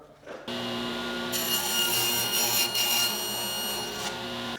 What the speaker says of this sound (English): So now it's time to put the kerf cut into here so we can align the square.